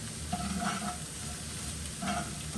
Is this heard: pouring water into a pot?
no